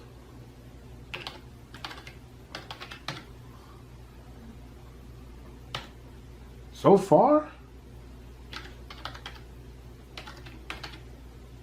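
Keystrokes on a Razer Cynosa V2 gaming keyboard come in scattered short bursts of clicks, fairly close and moderate in level, with someone talking between and over them.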